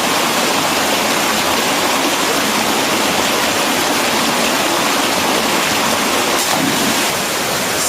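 Water pours down a waterfall in a canyon, making a loud, steady, broadband roar with no break. There are no voices.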